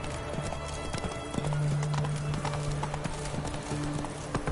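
Roach the horse trotting in The Witcher 3, steady clip-clop of hooves over a busy game soundscape, continuous and fairly close, with a brief whinny-like tone partway through.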